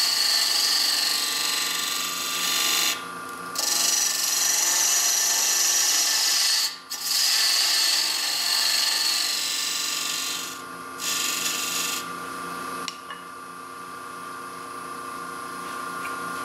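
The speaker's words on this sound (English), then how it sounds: "I'm going to turn down this tenon to the level of that burn mark." Lathe turning down a wooden tenon, a loud continuous hiss of cutting with a steady motor hum, broken by a few brief pauses before the cut thins out.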